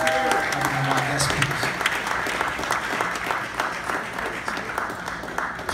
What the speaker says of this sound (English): I want y'all to give a warm welcome and round of applause for Brother Mitchell Chance.